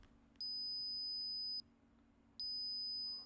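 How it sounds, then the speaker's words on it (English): A power bank's find-my-device alarm: a high, steady electronic beep sounds twice, each tone held for about a second with a short pause between, clear and close against quiet background. "Power bank will beep continuously when you start searching"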